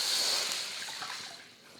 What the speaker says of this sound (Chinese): 然后我们加大概2个饭碗的水量，差不多500 ml